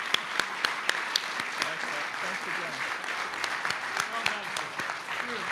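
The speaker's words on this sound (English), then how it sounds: "How about a round of applause for our speaker?" Audience applause for a speaker at a National Press Club event with the Secretary of the Navy, a steady patter of many hands with sharper individual claps, held at moderate level for several seconds.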